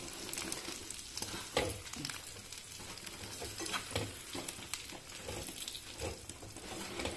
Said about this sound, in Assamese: এইখিনি আমখিনি ইয়াত দি ভালকৈ মিক্স আপ কৰি ল'ম